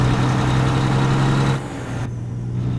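A Freightliner FLD truck engine drones steadily with a deep low hum while pulling grain in American Truck Simulator, then drops in intensity partway through and carries on more quietly.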